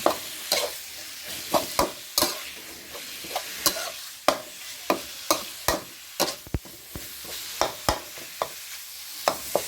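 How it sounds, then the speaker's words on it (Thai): Pork and cabbage being stir-fried in a pan, with repeated sharp scraping and clanking strokes of a spatula in an irregular rhythm over a soft background sizzle, close and fairly loud. "เดี๋ยวผัดหมูไปอีกสักหน่อยก่อน"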